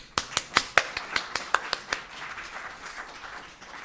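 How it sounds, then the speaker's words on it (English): An audience at a talk and film event gives applause, beginning with about ten sharp, evenly spaced claps close by that then fade into a sparse, quieter patter of scattered clapping. "For now, another big round of applause for them all."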